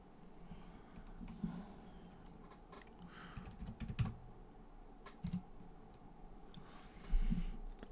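Typing on a computer keyboard during a Cine2Nerdle movie trivia game, a steady patter of soft key clicks with a few louder taps, close and alone.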